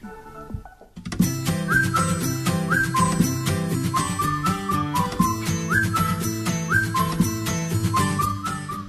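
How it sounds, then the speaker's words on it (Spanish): A bright, tuneful whistled melody rises over a busy musical backing, steady and fairly loud after a brief quiet start. "Te tienes que poner de buen humor cuando oyes el silbidito"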